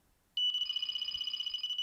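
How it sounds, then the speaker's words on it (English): A Delkim fishing bite alarm set to maximum beep speed jumps straight into a rapid, continuous high-pitched warble, close and clear, lasting over a second and a half after brief silence, with no talk. "how literally it goes into warble extremely quickly, even more than the old style alarm"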